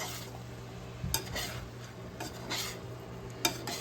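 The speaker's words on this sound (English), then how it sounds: "we're gonna give it a last mix" A spoon stirs beef and spinach with feta crumbles in a skillet, giving soft scraping strokes and a few sharper clinks against the pan over a faint background hum.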